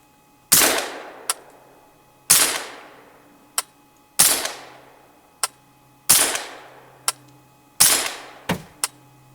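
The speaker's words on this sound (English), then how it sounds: "we're starting with 147 grain subsonic for 5 rounds" Five suppressed gunshots firing 147 grain subsonic rounds, each a loud, sharp muffled crack with a short decaying tail, evenly spaced about two seconds apart, with a faint metallic clink after each, and no talking.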